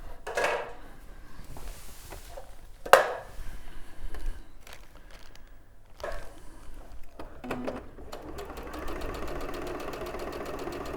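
A sewing machine stitching with a 1/4 inch foot fitted, a fast steady mechanical whirr running close up over the last few seconds after scattered handling clicks.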